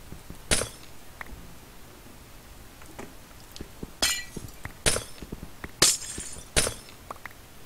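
Glowstone blocks being broken in Minecraft, heard as a handful of sharp, glassy shattering cracks spaced irregularly over several seconds, with faint softer clicks between them.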